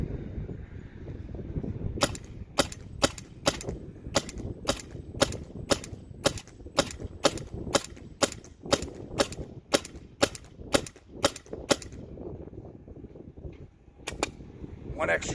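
Rapid volley of sharp air rifle shots from an EMF100 fired into a First Strike trap with a tarp over loose netting, about twenty evenly spaced cracks in a burst, a short pause, then a couple more, close and crisp.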